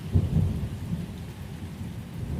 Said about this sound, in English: the rain outside thins even more, shifting into scattered drops